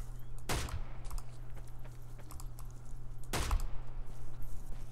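Two loud, sharp gunshots about three seconds apart in DayZ, cracking over a steady engine-like hum with faint clicks in between.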